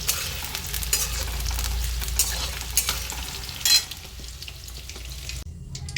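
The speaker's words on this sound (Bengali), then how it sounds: "আস্তে আস্তে করে ভেজে নেবো" Soybean chunks fry in oil in a wok over medium heat, giving a steady close sizzle with occasional stirring scrapes, until a sudden drop near the end.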